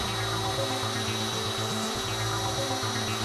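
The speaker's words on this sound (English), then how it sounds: "I'm starting the drill, watching the graft as it goes in" A resistance drill bores slowly into a living tree trunk to test the wood for decay, giving a steady low grinding motor drone that runs continuously and close throughout, with no voices.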